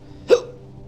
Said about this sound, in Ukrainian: в мене гикавка